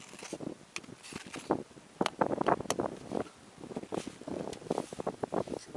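Wind during a New York snowstorm, rough gusty buffeting across the microphone with irregular bursts and rumbling, close and moderately loud, alone with no talking.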